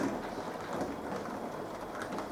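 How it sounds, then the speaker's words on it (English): Steady rain pours during a summer morning thunderstorm, a dense, even hiss with low rumbling underneath, continuous and fairly faint throughout with no talking. "It is a thunderstorm."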